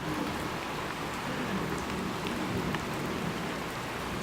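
Steady rain falls during a thunderstorm, a dense, even hiss of drops on surfaces continuing throughout, with scattered louder drops and no voices.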